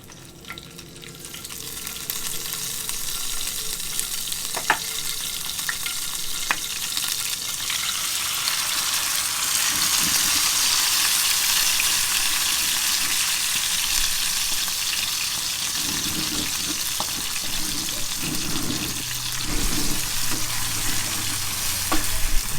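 Ingredients hitting hot oil in an outdoor wok for Makassar-style sweet potato soup, a dense, rising sizzle with crackling splatters that holds steady, occasional clinks and stirring beneath.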